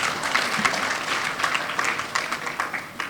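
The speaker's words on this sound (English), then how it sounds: "Please, can you give them a round of applause?" An audience at a community event for AgriSal project beneficiaries in Adamawa applauds, with steady dense clapping from a crowd lasting throughout.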